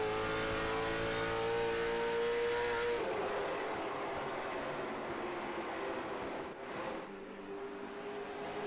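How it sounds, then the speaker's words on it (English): A late model race car at IRP Raceway in a sim racing game. The engine howls at high revs, then its pitch drops as the car lifts into a turn. The loud, steady drone carries on with no talking. "You hear Johnson not really much on the brake, just rolling hard, trying to get a very wide arc down into the bottom of turn 1 and 2"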